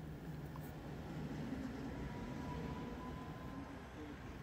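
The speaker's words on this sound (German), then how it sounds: "unten fährt die Straßenbahn, hier ein alter Tatra-Wagen im" An old Tatra tram in V200 design rolls through a street in Prague, a low, steady rumble heard faintly from a distance, with no distinct peak.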